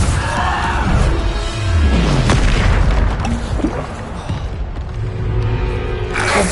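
Bombarda blasting spell explosions in the Hogwarts Legacy video game, heavy booming blasts and crashing impacts layered over continuous loud combat noise, with no speech.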